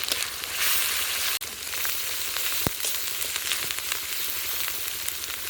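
Onion paste and five-spice panch phoron frying in hot oil, a loud, close, continuous crackling sizzle with scattered pops and one sharp clatter, no voices.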